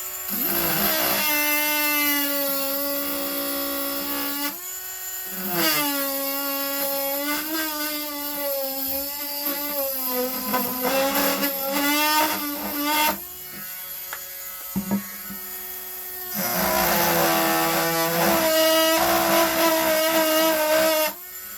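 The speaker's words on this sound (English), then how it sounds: "I'm going to sand a channel into the MDF" Rotary tool with a sanding bit grinding a channel into MDF for mounting a taxidermy bird, a loud steady high-pitched whine that dips and rises in pitch as the bit loads and frees, with brief pauses between passes.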